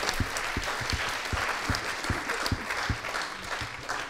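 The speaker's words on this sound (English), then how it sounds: "Well-deserved applause." Audience at a vegetable summit conference applauds, a steady patter of many hands with a few sharper nearby claps standing out, moderately loud and sustained.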